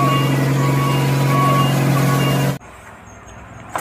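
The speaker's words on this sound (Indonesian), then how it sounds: "Wow, ini ada mobil truk molen." Toy cement mixer truck, a loud buzzy motor whine with a repeated electronic reversing beep that stops abruptly, leaving faint room noise and a small click.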